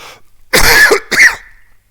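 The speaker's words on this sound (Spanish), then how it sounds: "Me ha dado hasta tos." A couple of sharp, close coughs, the second rougher like a throat being cleared, with brief quiet between them.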